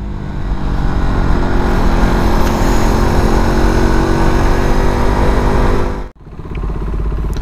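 A loud KTM RC 390 motorcycle engine drones at steady high revs with heavy wind rush during a night ride, then cuts out abruptly near the end before the roar resumes.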